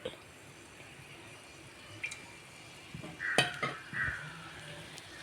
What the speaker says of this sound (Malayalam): ഒരു ചട്ടി അടുപ്പത്ത് വെച്ച് നമുക്ക് വെളിച്ചെണ്ണ ഒഴിച്ചു കൊടുക്കാം.